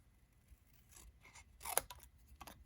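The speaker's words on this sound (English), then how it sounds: "So what I'll do is I'll just snip this one out." Scissors snip out a paper piece for a nature-themed treat box, a few quiet cuts building to one sharp, close snip, then a last faint cut.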